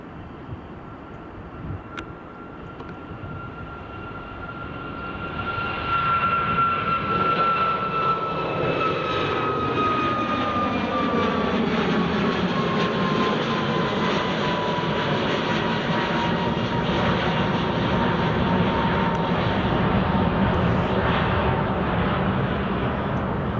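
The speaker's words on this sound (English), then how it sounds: "Alter Air 737 Max." Malta-liveried Boeing 737 MAX jet airliner at Edinburgh Airport, a rising engine whine and roar that grows louder after a few seconds and holds as a steady sweeping rush, with tones gliding downward as it passes, no talk.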